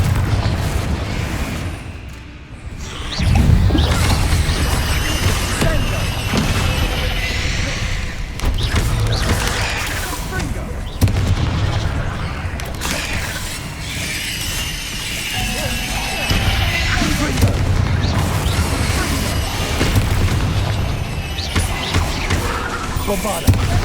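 Repeated Confringo and Bombarda spell blasts from Hogwarts Legacy, a string of booming bursts and crashes layered over continuous game noise, with a voice calling out throughout.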